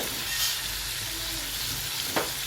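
Potatoes fry in hot oil for Gujarati bataka paua, a constant close sizzle with a brief scrape of stirring near the end.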